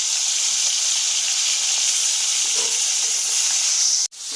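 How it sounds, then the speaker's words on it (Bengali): Shrimp coated in turmeric and salt fry in hot oil in a wok, a steady loud sizzle and hiss that runs unbroken and then cuts off abruptly near the end, with no talking. "কড়াইয়ের তেল ভালো করে গরম করে নিয়ে দিয়ে দিতে হবে হলুদ লবণ মাখানো চিংড়ি মাছগুলো"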